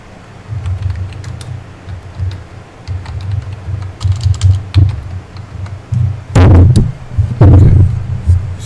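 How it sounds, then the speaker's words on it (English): Computer keyboard keys tapped in irregular bursts while entering search keywords into a research tool, with a steady low hum underneath and two louder clusters of clacks near the end. "we're going to type in back pain relief"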